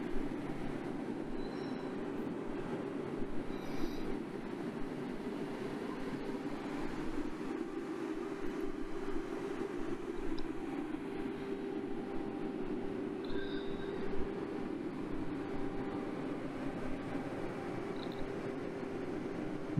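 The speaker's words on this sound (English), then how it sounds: "This is our furnace and the blower." A blacksmith shop forge furnace with its blower running, a steady loud droning hum with a rough whooshing roar that holds evenly throughout, no voices.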